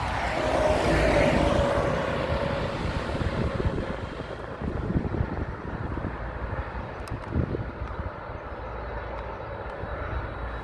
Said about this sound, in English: It's a Dreamliner, Qatar Airways.